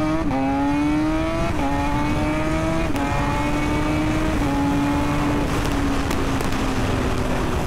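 A Kawasaki Ninja H2 Carbon motorcycle accelerates hard through its gears. The loud engine whine climbs in pitch again and again, with brief drops at each shift, and it stays close throughout.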